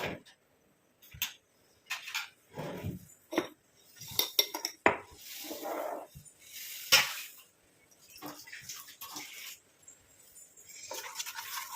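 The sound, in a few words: stirring coffee powder and beetroot juice mixture in a pot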